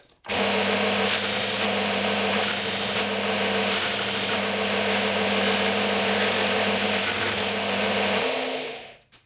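Power sander grinding Tasmanian oak down to a marked line, a loud steady motor whine with pulsing surges of abrasive rasping, close up and running for several seconds before winding down, with no talking.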